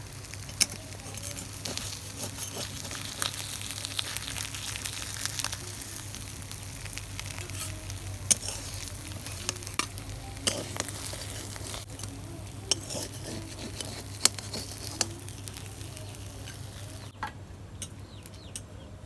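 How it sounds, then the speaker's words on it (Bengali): Puti fish frying in oil gives a low, continuous sizzle while a utensil stirs and clinks against the pan in scattered taps, heard near and at moderate level. "এখানে আমি মাছ ভাজা হয়েছে এখানে আমি তুলে নেব"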